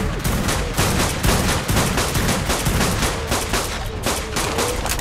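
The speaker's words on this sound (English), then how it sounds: "Just keep firing." Rapid gunfire in the video game Ark, dense continuous bursts of shots at steady loud level with no voices.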